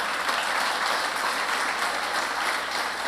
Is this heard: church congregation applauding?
yes